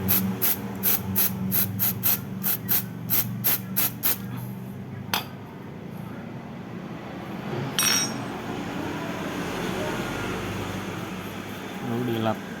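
Carburetor cleaner sprayed onto the oil drain plug bolt of a Kia All New Rio during an oil change, heard as a steady close hiss after a run of rapid rhythmic clicks from the spray can.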